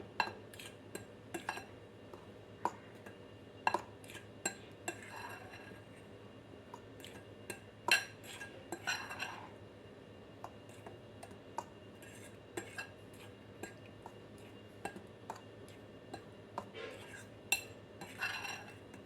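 Dry carrot cake ingredients and milk powder get stirred in a bowl, giving soft scraping and scattered light clinks of a utensil against the bowl, quiet and close with no talking.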